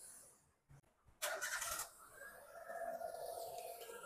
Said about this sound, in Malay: So kita boleh hidupkan enjin lah.